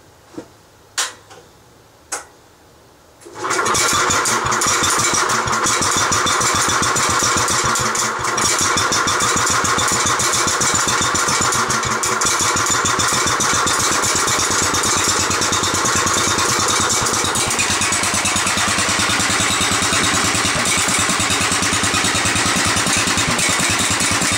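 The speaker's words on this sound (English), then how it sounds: "it's a pretty nice muffler, quiets it down a lot, and might as well do a startup for you." A cold-blooded Wheel Horse tractor engine with a muffler cranks a few times after some light taps, then catches and settles into a loud, steady, muffled idle.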